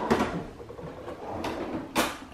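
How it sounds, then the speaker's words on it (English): A silverware drawer slides open and shut with a few sharp clatters and rattling cutlery as a fork is fetched, close and moderately loud, with no talk. "Get in my drawer of silverware."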